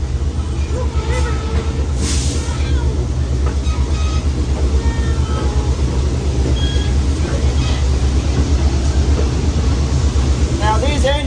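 A 1968 GP38-2 diesel freight locomotive built for the Southern Railway hauls a train, heard as a steady loud rumble with rhythmic clickety-clack and occasional squeals, recorded close on board with voices in the background.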